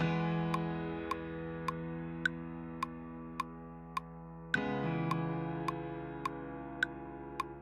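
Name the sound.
Kontakt piano 'The Gentleman', overcompressed, OTT'd, bright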